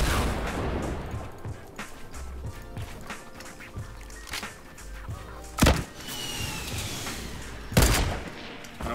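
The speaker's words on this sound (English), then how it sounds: "I'm gonna keep hitting them with RPGs, dude" RPG rocket launches and blasts in Fortnite Battle Royale: a string of heavy thumps and booms, two standing out sharply, over a busy game soundscape.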